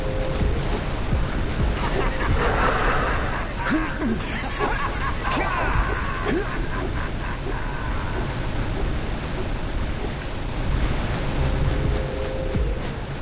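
Water and waves lapping around a character in the video game Jak & Daxter, a continuous washing surf with some wind-like noise, steady and moderately loud throughout, with no talking.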